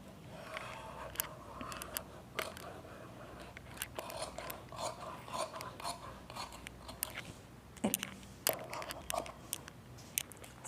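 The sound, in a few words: scissors cutting blouse fabric ruffle layer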